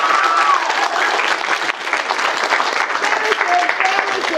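Steady, loud applause from a wedding audience fills the whole stretch, with a few voices faintly audible underneath the clapping.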